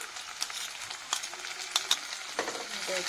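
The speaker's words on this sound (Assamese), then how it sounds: "ইয়াত মই এতিয়া 2 চামুচ ভৰাই আদা নহৰু পেষ্টখিনি দি ল'ম ইয়াতে।" Ginger garlic paste fries quietly in a pan, a soft low sizzle broken by several sharp spoon clicks and scrapes as it is stirred.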